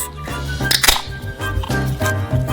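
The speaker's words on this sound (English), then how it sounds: "We open a can of beer" A can of beer is cracked open close by for a rib bake, giving a sharp click and a brief fizz over steady background music.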